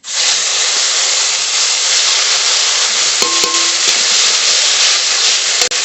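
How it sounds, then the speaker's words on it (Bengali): Whole garam masala, a bay leaf, black cumin and onion paste hit hot oil with a loud, continuous hiss that holds evenly throughout, broken by a few brief tonal blips near the end. "ফোড়ন করে নেব গোটা গরম মশলা তেজপাতা গোটা কালো জিরে পেঁয়াজের পেস্ট"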